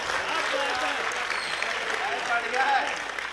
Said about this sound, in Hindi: यहां से भी तालियां बज जानी चाहिए